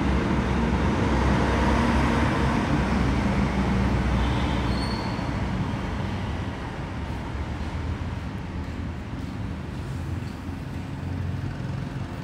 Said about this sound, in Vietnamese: Xe cộ cũng rất là đông